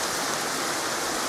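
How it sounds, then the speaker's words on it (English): A mountain river in Snowdonia rushes in a steady, loud, broadband roar of churning water, close by and unbroken, with no voices over it. "It's a beautiful mountain river."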